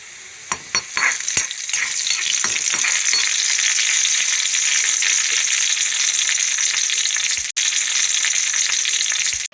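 Onions frying on a stove for tempering a sardine fish curry, a loud close sizzle that swells into a constant hiss after a few early stirring clatters, briefly cut off once.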